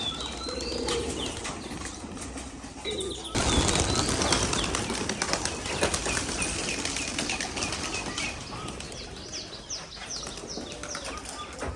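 A loud flurry of Giribaz pigeon wings flapping close by at a pigeon farm, continuous beating with a strong burst partway through, faint bird calls in the background.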